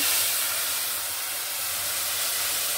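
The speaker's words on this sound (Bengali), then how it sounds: "এই যে আমি দিয়ে দিলাম ফোড়ন" Tempering of fried mustard seeds poured into a pot of raw mango sour dal, giving a loud, continuous close hiss and sizzle of steam with no talk.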